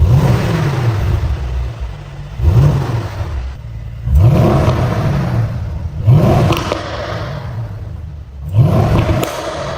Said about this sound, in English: This thing pops and crackles like a muscle car, snarling every time you lift off the throttle.